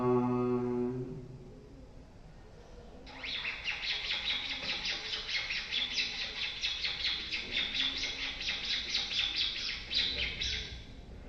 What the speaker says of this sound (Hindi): पक्षियों की चहचहाट